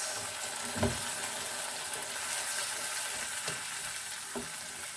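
Fresh red tomatoes sizzle and fry in a pan with garlic ginger paste and onion, giving a steady broadband hiss throughout with a few soft stirring knocks, heard close with no talking.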